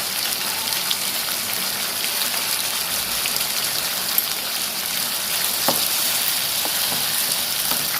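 Mushrooms frying with ginger in a pan make a continuous, even crackling sizzle like light rain, with a few faint pops standing out; no voices are heard.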